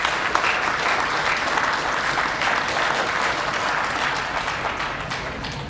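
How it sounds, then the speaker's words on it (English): Audience applause at a high school National Honor Society induction ceremony, a steady, dense wash of clapping from a crowd that holds at an even level throughout without talk. "Let's give them a round of applause."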